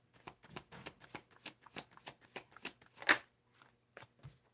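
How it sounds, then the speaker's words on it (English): Tarot cards being shuffled by hand, a close run of quick, rhythmic riffling bursts that slow and fade toward the end as the cards are pulled. "I will pull the cards"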